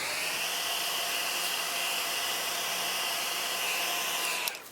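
Heat embossing tool blowing hot air onto a craft heart, a loud steady close whooshing roar that holds evenly before cutting off at the end.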